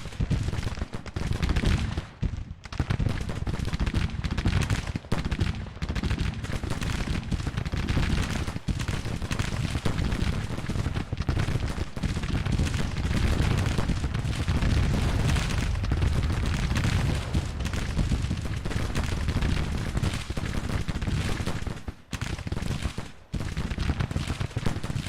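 Musket volleys and artillery booms from a Civil War battle in Grand Tactician keep up a dense, loud, continuous barrage of overlapping gunfire, with only a few brief dips in intensity.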